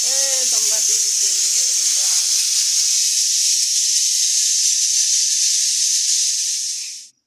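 Spices tempering in hot oil in a kadai make a loud, steady hissing sizzle, first under speech, then alone for several seconds before cutting off abruptly.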